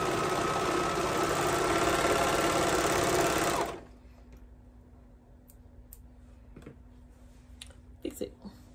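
A home sewing machine runs steadily and loudly while a knit piece for baby bell bottoms is stitched. After a few seconds the motor stops, leaving a quiet room with faint handling clicks and soft rustles.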